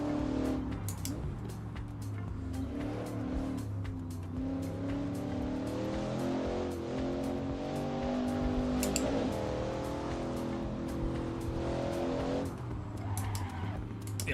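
Car engine and tyres in the Assetto Corsa Evo racing game, with a steady revving engine that rises and falls through gear changes and occasional tyre scrub, continuous and fairly prominent throughout.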